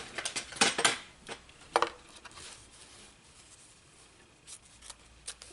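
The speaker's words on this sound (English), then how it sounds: "Now I'm going to cut that out." Scissors cut around a machine-stitched fabric tooth fairy pillow in short clustered snips, loud at first and then sparser and fainter, with no voices.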